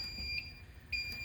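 A smoke detector being tested on a bypassed fire alarm system gives two short high-pitched electronic chirps about half a second apart, faint over a low background hum.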